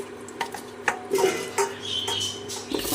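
Potato and eggplant pieces are dropped into hot oil in a wok, giving a few clattering knocks and scrapes followed by a steady, close sizzle.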